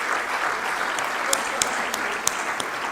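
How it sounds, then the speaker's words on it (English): Audience applause at the close of an inaugural session of a business and sustainability conference, a dense, steady clatter of many hands clapping, close and continuous, with a few sharper claps standing out. "Ladies and gentlemen, a loud round of applause as we end the inaugural session."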